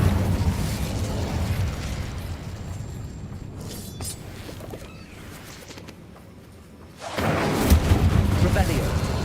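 Fire spells crackle and burst in a Hogwarts Legacy fight, a dense, steady roar of flame and magic that dips briefly before surging back loud.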